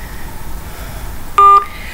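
One loud, brief telephone keypad dialing tone, a steady two-pitch beep lasting about a quarter second, sounds after a stretch of quiet hiss.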